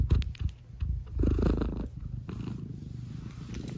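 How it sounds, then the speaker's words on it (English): A small cat purrs close to the microphone, a steady low rumbling throb that pulses with each breath and continues without any talking. "Look at this little cat."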